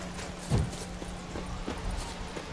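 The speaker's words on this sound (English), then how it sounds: "Sometimes I can call the horse, sometimes I can't." Horse hooves clip-clop in The Witcher 3, a few soft, evenly spaced steps over a steady background hum, with no talking.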